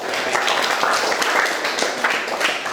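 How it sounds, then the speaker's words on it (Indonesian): A university classroom group gives applause, a continuous patter of many hands clapping at moderate loudness from start to end, with some voices mixed in. "Oke, beri tepuk tangan."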